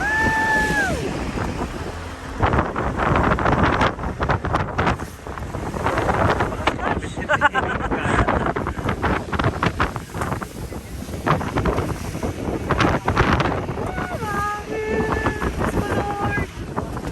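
Strong gusty wind buffeting the microphone, roaring in bursts throughout, with voices talking and shouting over it.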